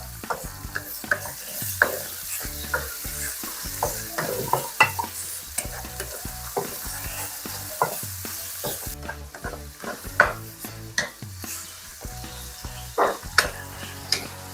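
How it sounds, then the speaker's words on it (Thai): Pork and garlic stir-frying in a pan, sizzling steadily with repeated scraping and tossing strokes of a spatula throughout, close and fairly loud with no talking. "ดูหอมกระเทียม ผัดให้หมูสุกจังน้อยก่อนพี่น้อง"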